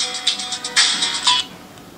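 A telephone plays an electronic ringtone as a rapid series of bright, tonal chirping pulses for about a second and a half, then fades out.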